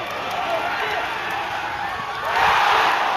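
Crowd at a joint NFL practice between the Eagles and Patriots cheering, a steady roar of many voices that swells louder near the end, heard from within the stands.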